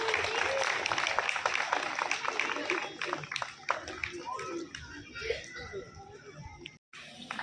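Clapping from a crowd at a Sant Ravidas Jayanti gathering, sustained and fairly close, with voices and children's chatter mixed in before it thins out and briefly cuts off.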